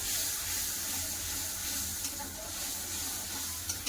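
A little water poured over chili and turmeric powder frying in oil in a pan, giving a steady hissing sizzle with soft bubbling, close and continuous, with a couple of small clinks near the end.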